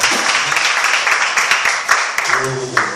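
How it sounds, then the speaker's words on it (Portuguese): A church congregation claps in a sustained, loud burst of applause with sharp individual claps standing out, and a voice speaks briefly near the end. "E as palmas de ouro no Senhor."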